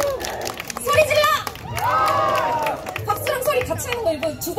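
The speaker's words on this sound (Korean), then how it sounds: "소리 질러!" Busking audience in Hongdae, Seoul, shouting and cheering at a street dance team's show, a loud sustained crowd roar with whoops and high children's shrieks rising and falling, near and continuous, with some clapping mixed in.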